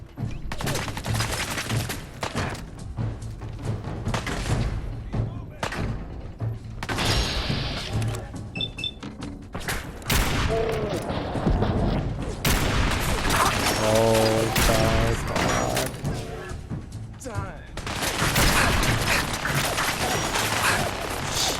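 In Fallout 4, a minigun fires in long rattling bursts mixed with thuds, crashes and clanking game effects, loud and dense throughout with brief pauses between volleys.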